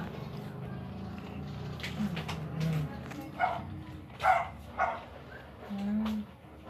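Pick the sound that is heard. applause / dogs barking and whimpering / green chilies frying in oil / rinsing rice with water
dogs barking and whimpering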